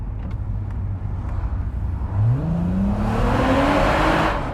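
A Mk1 Audi TT V6 driving through a short tunnel. The engine drones steadily, then revs up as it accelerates, with the pitch climbing and the sound swelling in the enclosed space, loud and close.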